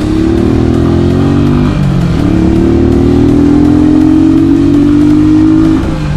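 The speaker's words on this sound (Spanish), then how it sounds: "qué rico es andar en moto." Steady, loud engine drone of an Italika DT 125 motorcycle being ridden on a delivery run, with a brief dip and rise in revs midway and wind noise throughout.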